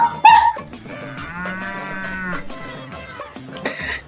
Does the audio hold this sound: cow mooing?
yes